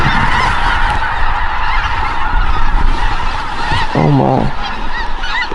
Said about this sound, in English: You can tell we got a couple birds behind us.